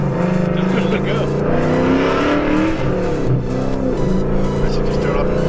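A 550 HP Ford Mustang GT engine drones and revs steadily from inside the car, a continuous loud rumble running under people talking throughout.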